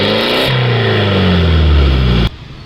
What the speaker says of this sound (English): So right now I'll be showing you the exhaust sound.